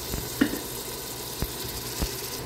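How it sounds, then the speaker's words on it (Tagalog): Ground pork and beef is stir-fried with tomato and sautéed onion, giving a low continuous sizzle broken by three faint scrapes of the spoon against the pan. "So, lang po natin siyang i-stir fry doon sa ating kamatis and ginisang onion."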